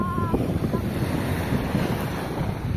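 Sea waves at a beach wash in a steady, broad rush, with heavy wind buffeting the microphone. The roar stays constant throughout, with no voices heard.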